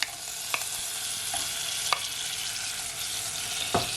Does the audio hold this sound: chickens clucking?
no